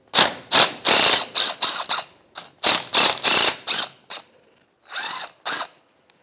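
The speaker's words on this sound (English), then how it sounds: "T30, we'll take these lovely little cap screws out." A ratchet backs out T30 cap screws from a Ford Ranger drive shaft, loud close clicking bursts in quick repeated runs separated by short pauses, with no talking.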